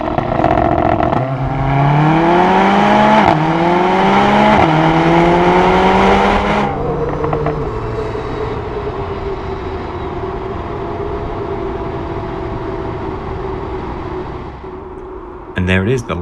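A Mercedes-AMG A45 launches hard in a 0-100 km/h run, the engine climbing loudly through several rising gear pulls before settling into a steady cruising drone, with a brief clatter near the end.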